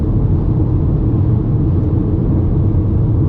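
Steady, loud road and engine rumble fills the cabin of a Ford Maverick XL hybrid pickup cruising at 75 mph, a continuous low drone with no talk over it.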